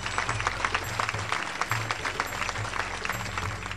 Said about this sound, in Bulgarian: Аплодисментите ви са за страната домакин!